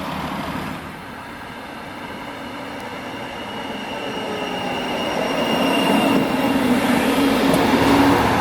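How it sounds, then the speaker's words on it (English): Light rail train arriving at the 39th Street station, a steady rumbling roar of wheels on track that builds gradually louder, with faint high squealing from the rails and no talking. "that's a train coming"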